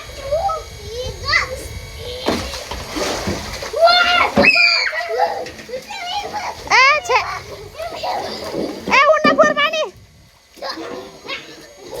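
Children splash water in a pool at home, with bursts of splashing and sloshing mixed with their chatter and an adult's voice calling to them.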